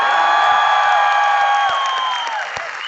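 A crowd at a motivational event applauds for Dharmendra Maan, loud sustained clapping and cheering heard near, with strong tonal whistles or sustained pitched cries sliding downward over the ovation.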